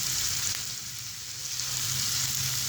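Carrots and peas fry in a pan of oil, giving a steady, fairly soft sizzle that swells and eases slightly as they are stirred, with no talking.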